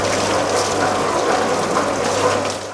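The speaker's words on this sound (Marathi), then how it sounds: "आता स्वच्छ पाणी यायला लागलं ते गाळून परत अजून टाकीमध्ये चाललं" A vegetable peeling machine for safed musli runs with a steady mechanical churn while water gushes and pours through it, loud and close, with a low constant hum underneath.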